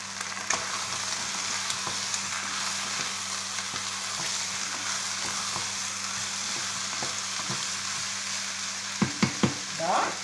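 Carrots fry in a hot pan with a constant loud sizzle while a spoon stirs, its scrapes and knocks coming at irregular intervals and clustering near the end.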